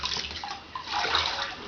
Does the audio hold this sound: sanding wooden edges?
no